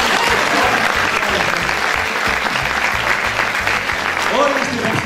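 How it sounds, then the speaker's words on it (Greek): Loud, sustained audience applause from a packed hall at a carnival revue show, dense clapping throughout with a rhythmic thumping beat underneath and crowd voices mixed in. "Μην τρέπεστε ρε παιδιά, χειροκροτήστε"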